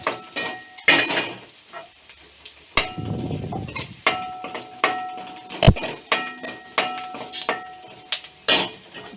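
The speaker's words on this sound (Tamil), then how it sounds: "இந்த வெங்காயம் கோல்டன் கலரில் வர வரைக்கும் நான் நல்லா ஃப்ரை பண்ணிக்கிறேன்." Onions fry in a pan until golden for a drumstick gravy, sizzling steadily close by. A spoon stirs and scrapes the pan in a regular rhythm, making repeated clinks and knocks.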